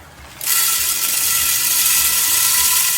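Coffee beans poured into a grinder hopper, about half a kilo, a sudden loud rushing rattle that starts after a short pause and continues steadily, close by.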